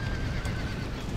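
A horse neighs in the video game Red Dead Redemption, a brief whinny over dense background noise with hints of hoof clip-clop, heard alone without talk.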